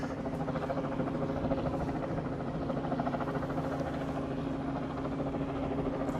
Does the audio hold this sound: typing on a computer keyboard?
no